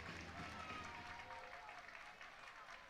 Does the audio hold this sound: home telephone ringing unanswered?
no